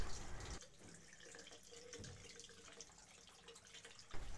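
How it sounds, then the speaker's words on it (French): Tap water running from a faucet into a sink, a quiet steady rushing stream that starts after a brief moment and continues before cutting off near the end. "Après 20 secondes d'écoulement de l'eau du robinet"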